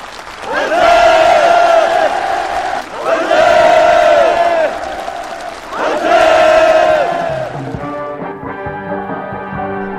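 Participants at a housing move-in ceremony in a newly built North Korean rural village applaud enthusiastically. Three loud swells of crowd clapping and cheering rise and fall, then music takes over near the end.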